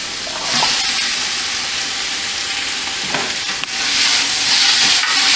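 Purple and white chopped onions sauté in a little oil in a pan, giving a steady, close hiss of sizzling with a few faint stirring scrapes and no talking.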